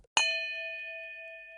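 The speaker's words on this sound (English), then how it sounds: "don't forget to hit the notification bell" A single bright notification bell ding sound effect strikes sharply, then rings out alone with a clear tone that slowly fades.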